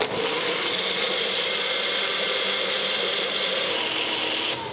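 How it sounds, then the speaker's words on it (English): An electric blender whirs steadily as pizza sauce is blended smooth, a bright continuous motor whine with a gritty churning texture, close and loud for a few seconds before cutting off. "we're just going to blend it for about 20 seconds till it goes smooth"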